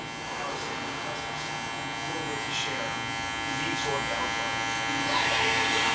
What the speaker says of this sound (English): Whatever you make a line with, you can take it out with the same exact clipper or guard.